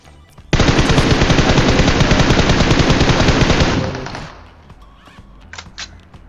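Rapid automatic gunfire from a shooter video game, a dense sustained burst of shots lasting about three seconds, then a few faint scattered sounds as it tails off.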